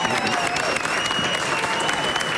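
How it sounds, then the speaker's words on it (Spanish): Dense, steady clapping from a TV studio audience fills the whole stretch, loud and continuous, with a faint voice mixed in. "Aplausos, señores, Pablo Echarri."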